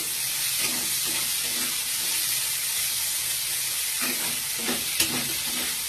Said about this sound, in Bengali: তো ফ্রেন্ড আমার এগুলো ভাজা ভাজা হচ্ছে